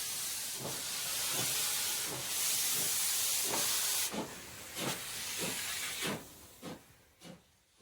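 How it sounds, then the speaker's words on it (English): A steam train in the video game Happy Saint Sheol lets out a broad, continuous hiss of steam. Regular chuffing bursts punch through it at a steady rhythm, then the hiss thins and fades while the puffs carry on alone. "And that's a train."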